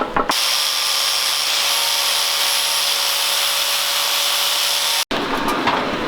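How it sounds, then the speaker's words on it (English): A power tool cutting holes in car body sheet metal on a right-hand-drive EK sedan, a loud steady high-pitched whine running nearly unbroken, close by, briefly cutting out near the end before resuming. "Still cutting the holes for this. Almost done. Try to cut them a little bit bigger."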